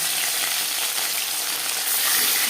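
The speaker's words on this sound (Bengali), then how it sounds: "মাছ ভাজবার জন্য পরিমাণ মতো রিফাইন্ড অয়েল গরম করে নিয়েছি এবার দিয়ে দেবো ম্যারিনেট করে রাখা মাছ" Marinated tilapia fish frying in hot refined oil, a loud, steady, close sizzle with continuous crackling that holds throughout.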